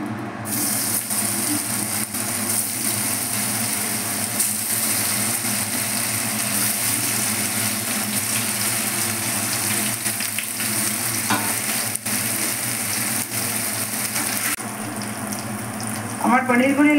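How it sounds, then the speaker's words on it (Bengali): Paneer frying in white oil and ghee in a frying pan, a steady dense sizzle that holds close and loud throughout, with a brief stir or clatter near the end. "এবার পনিরগুলি আমি ভেজে নেব।"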